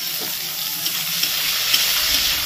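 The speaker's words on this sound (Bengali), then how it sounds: "দিয়ে দিচ্ছি 5 ফোড়ন, একটা শুকনো লঙ্কা আর 3টে তেজপাতা। এবার এটাকে ভেজে নেব।" Five-spice, a dry red chilli and bay leaves frying in oil give a continuous bright sizzling hiss with a few small pops, close and steady.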